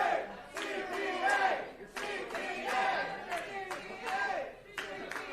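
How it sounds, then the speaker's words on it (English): A wrestling crowd at the warehouse venue roars and chants in rhythmic surging waves, loud and full throughout, with scattered shouts and claps rising from the packed room. "the crowd here at the warehouse firmly behind CPA"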